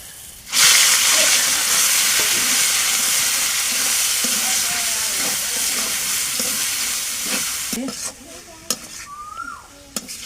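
Red amaranth greens drop into a pan of fried onion and garlic, setting off a loud, sudden burst of hissing sizzle that holds steady and then thins out, with a few clinks near the end.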